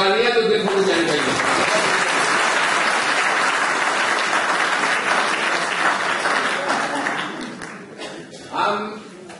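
Audience clapping at a political oath ceremony speech in Paris, sustained dense applause that thins out and fades toward the end, with voices faintly audible beneath.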